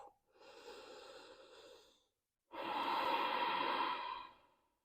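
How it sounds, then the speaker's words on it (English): A deep breath during a yoga class, drawn in for about two seconds, then after a short pause a louder, fuller exhale lasting over a second, close and alone. "One big breath."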